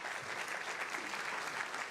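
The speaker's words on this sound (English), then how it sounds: "We could just give them a round of applause coming out tonight" Steady applause from a crowd, a dense even patter of clapping held at a moderate, slightly distant level throughout.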